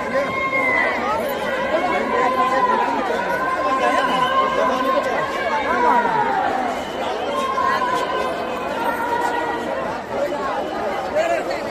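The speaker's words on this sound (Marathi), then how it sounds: "गर्दीच गर्दी, चारही बाजूला तुम्ही पाहाल गर्दीच आहे।" A huge crowd at the Maha Kumbh Mela 2025 in Uttar Pradesh fills the air with dense, continuous chatter, many overlapping voices near and far with no pause.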